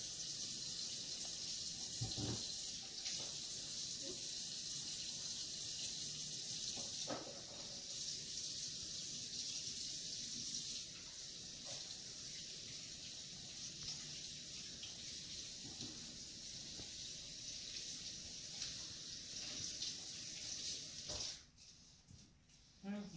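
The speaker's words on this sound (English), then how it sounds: "After that, it's time to wash your hands." Kitchen tap running steadily while hands are washed before cooking a cheesy salsa dip, a constant hiss of water at moderate level with voices talking over it, then shutting off at the end.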